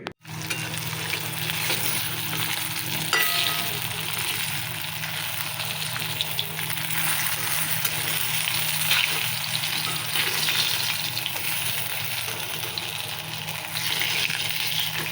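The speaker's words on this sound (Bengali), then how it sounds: "এখন ডিমটা ভেজে নেবো।" An egg fries in fresh oil in a pan, a steady dense sizzle that starts abruptly and holds evenly for about fifteen seconds, close and moderately quiet, with no talking.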